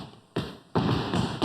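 Feet stomp on the floor in a body percussion exercise, a quick run of dull thuds coming in uneven bursts, close and fairly loud, with a shuffling scrape between the hits and no voices.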